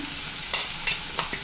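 Onions and chili powder sizzle and fry in a pan while a utensil scrapes and stirs in a few quick strokes, close up with no talking.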